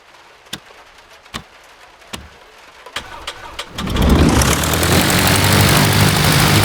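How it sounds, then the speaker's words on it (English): A Cessna 150 engine starting in X-Plane 11: several evenly spaced starter clicks and cranking ticks, then the engine catches and settles into a loud, steady propeller drone that holds to the end. "listen to some of the 150 F-mod sounds while we start up the Cessna"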